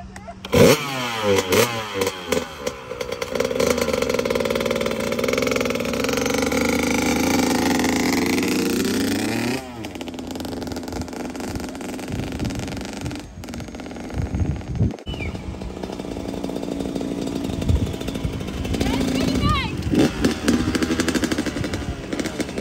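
A dirt bike's engine revs on a test ride, rising and falling in loud buzzing surges with rattly mechanical texture, close to the listener.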